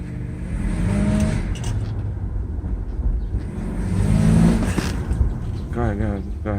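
A Mercedes SL600 with a repaired throttle body revs its engine as the car accelerates, rising in two swells of throaty roar from inside the cabin, with a person talking over it near the end.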